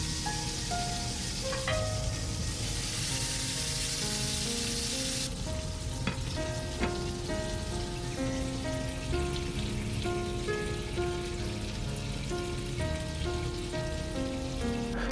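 Pork-wrapped buns braise in a covered pan over medium-low heat, giving a continuous, even sizzle like light rain that runs for the whole stretch under a soft background tune, with no voices.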